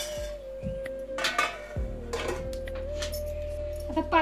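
A metal lid clatters onto a cooking pot of simmering mango raita, a few sharp clinks and one solid clank, followed by a faint steady hum.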